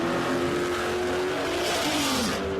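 A small BMW drag racing car at a no-prep drag strip revs hard and accelerates down the track, its engine note rising then dropping on a gear change, heard at a distance under steady crowd and track noise.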